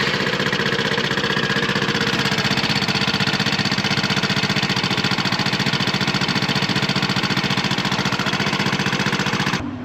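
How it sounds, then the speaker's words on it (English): A 168cc Tank 200 scooter engine idles loudly and close up with a steady, rapid chugging beat. It carries on evenly throughout and cuts off abruptly at the end. "Alright, so now I'm going to go ahead and start it up."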